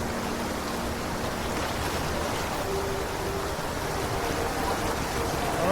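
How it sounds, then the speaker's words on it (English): Water tumbles steadily down a cascade in a canyon creek in Angeles National Forest, a close, continuous rushing roar with no pause and no voices. "Yeah, I got another cascade coming."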